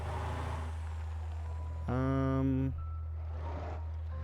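Heavy truck in the Motortown driving game, a steady low engine drone throughout with a loud, sharp air-brake hiss bursting in near the middle and fading out.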